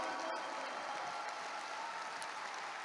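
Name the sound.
audience applause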